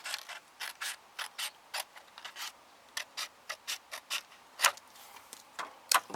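Scissors cutting a strip of paper for a handmade card, a steady run of short crisp snips in a regular rhythm, close and fairly quiet, with no talking.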